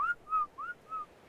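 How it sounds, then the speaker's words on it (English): Whistle attack command in Ark: Survival Evolved, aimed at a Brontosaurus: four short rising and level whistle tones in a quick, even sequence, clear and prominent with no talking over them. "Alright, so you ready to whistle attack on these?"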